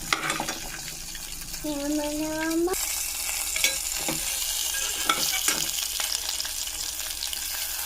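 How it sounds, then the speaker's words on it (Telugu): Green chillies and garlic cloves frying in hot oil, a bright steady sizzle with a brief tonal hum early on, then a few stirring knocks and scrapes over the continuous crackle. "ఇందులో పచ్చిమిరపకాయలు అలాగే 2 వెల్లుల్లిపాయలు వేసుకొని బాగా వేగనివ్వాలి"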